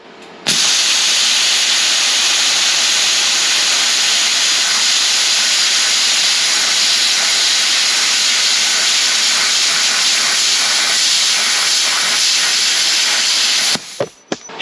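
An Arccaptain CUT65 plasma cutter slices through 1/4 inch mild steel with a loud, steady hissing roar that runs unbroken for about thirteen seconds, then cuts off abruptly.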